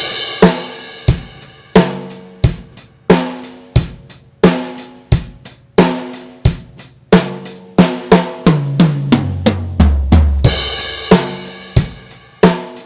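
Acoustic drum kit grooves through three bars of a simple kick, snare and hi-hat beat, then a bar of busier fill down the toms that lands on a ringing crash cymbal. Dry, close and alone.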